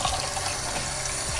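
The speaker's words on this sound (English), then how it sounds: "rinse the beets off" Cold tap water runs steadily into a sink while beets are rinsed under it, a close, continuous splashing rush with no pauses.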